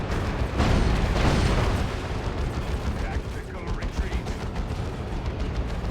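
Gunfire and heavy weapon blasts as Scouts battle Nurgle tanks in Warhammer 40,000: Dawn of War 2, a dense, loud barrage of shots and booms with a stronger burst near the start, with voices over it.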